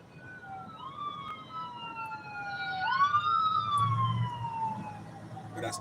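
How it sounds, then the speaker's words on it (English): An ambulance siren wails with rising and falling sweeps, growing louder as it approaches over a low rumble of passing traffic outdoors. "Coming ambulance."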